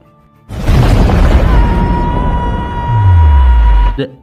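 A loud, deep explosion bursts out in a Minecraft-style animated story, roaring continuously with heavy low rumble and a sustained tone, then a falling boom before it cuts off.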